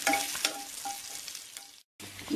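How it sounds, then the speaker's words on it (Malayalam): Mustard seeds crackling and spluttering in hot oil with curry leaves as a spoon stirs the pan, a steady close sizzle with small pops, cut by a brief silent gap near the end. "ഇത് മുറിച്ച് കഴിയുമ്പോൾ ഇതിലേക്ക് കടുക് പൊട്ടിക്കുക ചേർത്ത് ഇളക്കിയാൽ മതി."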